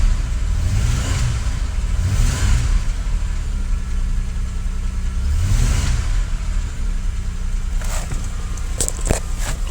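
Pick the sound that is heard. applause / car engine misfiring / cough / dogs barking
car engine misfiring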